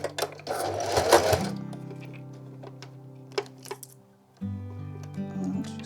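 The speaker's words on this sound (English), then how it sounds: "And then I'm just going to set off the first few stitches." A sewing machine stitches fabric strips, a close humming motor with rapid stitching bursts, a pause with a few small clicks, then the motor running again.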